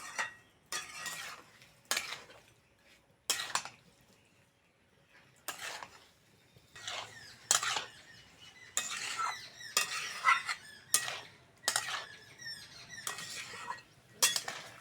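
Amla and sugar are stirred in a pan to melt the sugar, giving repeated close bursts of scraping and clinking from a spoon with short quiet gaps between strokes.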